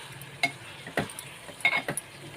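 Chicken fries with ginger-garlic paste in a pan under a soft, steady sizzle, while a spoon stirs and gives a few sharp clinks and scrapes against the metal.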